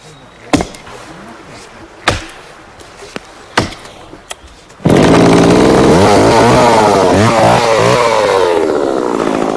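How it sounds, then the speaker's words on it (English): Chainsaw cutting into ash tree roots for hurley making: several sharp knocks and thuds come first, then the saw roars in loud and close, its engine pitch wavering as it bites through the wood. "Today, the chainsaw is used as its tip cuts down at an angle into the roots."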